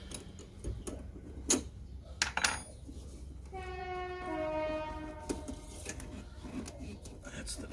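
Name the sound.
passing train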